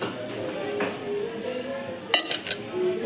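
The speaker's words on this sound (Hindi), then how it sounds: "बर्तन," Utensils clink and clatter in a small home kitchen, a few light metallic knocks and a sharper cluster of clinks near the end over faint background noise.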